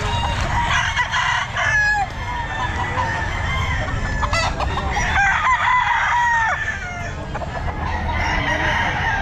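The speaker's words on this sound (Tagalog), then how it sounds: "Ito mga manok mo, sir." Chickens cluck continuously while roosters crow repeatedly, loud and close, in a busy barnyard chorus with no talking, at a pet market.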